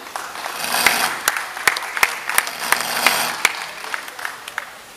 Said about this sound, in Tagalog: palakpakan po natin, Tito Oyet!